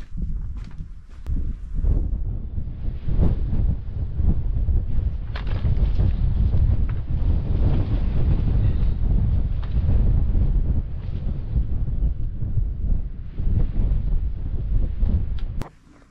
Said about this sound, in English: Wind is back.